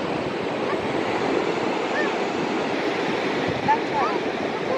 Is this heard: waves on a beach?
yes